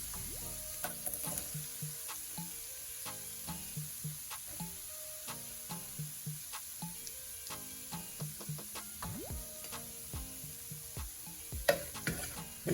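Onions fry in a pan with a soft, steady sizzle, and a utensil repeatedly scrapes and taps as they are stirred in a regular rhythm.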